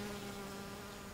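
Bees buzzing in a garden or park among flowers, a steady, even insect drone held at a constant pitch with no voices over it.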